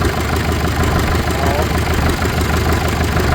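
A Farmall 650 tractor's diesel engine runs close and loud, holding a steady, dense, rough idle throughout with no break.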